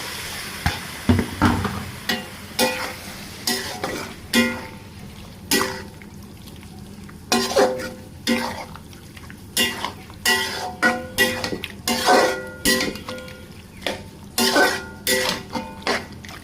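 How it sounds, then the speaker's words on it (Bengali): Pieces of beef lung fried with spices in a pot, a spoon scraping and clanking against the metal in a steady run of loud strokes over a constant sizzle, close up with no talk. "এখন ফ্যাপসাগুলো দিয়ে দেব কষানোর জন্য"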